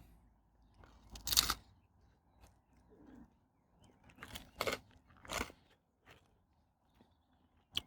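Crunchy, slightly dry pizza, crisp on the bottom, is bitten and chewed up close: several loud, sharp crunches spaced over a few seconds with quieter chewing between them.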